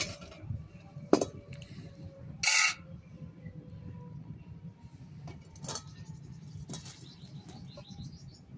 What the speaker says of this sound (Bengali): বসিয়ে দেবো কড়াইটা